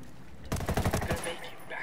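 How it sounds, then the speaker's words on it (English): Rapid bursts of gunfire in the shooter Ghost Recon Wildlands, a tight cluster of sharp loud shots packed into under a second, then a fading tail with faint game ambience. "Tango heard the gunshot."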